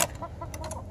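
Backyard chickens clucking excitedly at feeding time as black soldier fly larvae from a composting system are tossed to them, a few short close clucks in quick succession.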